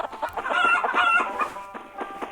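A chicken in a party video game clucks and squawks in a quick run of sharp calls, fairly close and clear, with no talking.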